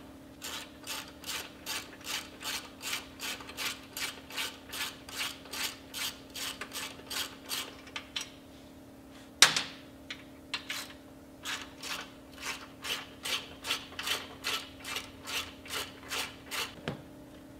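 Ratchet clicking in long rapid runs as stock 8mm Allen bolts are loosened on a motorcycle fender strut area, with a brief clank midway before the fast ratcheting resumes, close and clear with no talk.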